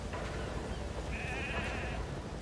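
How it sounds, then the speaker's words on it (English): Sheep bleat in the Metal Gear Solid video game at the Mother Base setting, one drawn-out wavering bleat rising over a low, busy game ambience, fairly clear but not loud. "we see our friends, the sheep and Jackie, have made it back to Mother Base safely"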